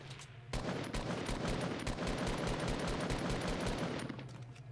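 Rapid bursts of automatic gunfire crackle through a Fortnite match, dense, loud and nearly continuous with steady rhythmic shots close by and no talking.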